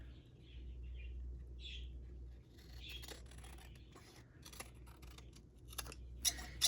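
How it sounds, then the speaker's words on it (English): Scissors snipping through paper while a valentine card is cut, giving soft scattered rasping cuts over a low steady background hum, with a few sharper snips near the end and no voices. "We're gonna cut the bottom part off here."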